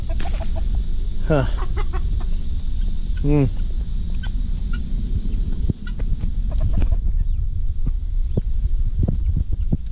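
Chickens eating figs beneath a fig tree give a few soft clucks and sharp squawks over a steady outdoor hum and rustling, with a voice speaking briefly.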